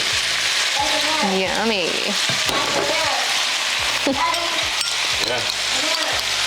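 Bo Luc Lac ingredients with tomatoes sizzling loudly in a pan, a dense continuous crackle and hiss with clinks of stirring, while someone briefly speaks and makes short approving sounds over it.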